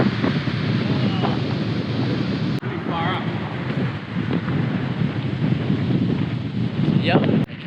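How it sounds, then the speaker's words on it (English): Wind buffets the microphone over rough, choppy ocean surf during a thunderstorm, a loud continuous roar of rushing air and breaking water with faint voices surfacing briefly beneath it. "the water's pretty rough today. Pretty windy."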